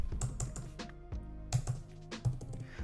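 Keys on an iPad Pro Magic Keyboard clatter in short irregular bursts of soft, close taps with brief pauses between groups.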